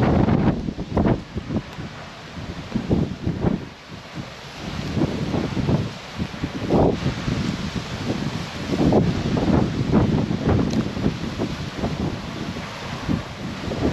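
Strong wind at a hillside windmill farm in Pililla, Rizal, buffeting the microphone in loud, uneven gusts and rumbling blasts that rise and fall throughout, with no talking.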